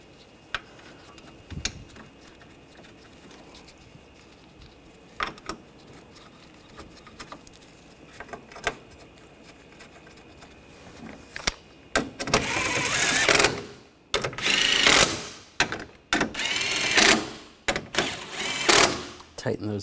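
Screws and bolts are tightened while installing a headlight on a 2013-2022 Buick Encore 1.4L: faint clicks and taps at first, then loud bursts of whirring, ratcheting tool noise in the latter half.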